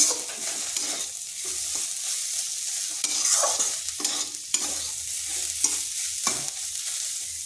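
Cauliflower filling for paratha stirred in a hot pan, with repeated scraping strokes of a spatula over a soft sizzle, close and moderately loud with irregular rhythm.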